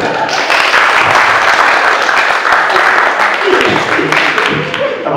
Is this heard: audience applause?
yes